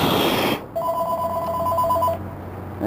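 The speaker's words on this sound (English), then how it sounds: "And I guess I get to answer the phone now." An indoor telephone rings once, a clear electronic two-tone trill lasting about a second and a half, heard close against quiet room tone on a snowy winter day.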